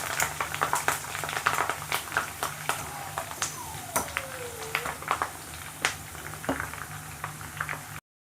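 Curry leaves frying in hot oil crackle and sputter steadily, a dense close patter of small pops with occasional sharper snaps throughout.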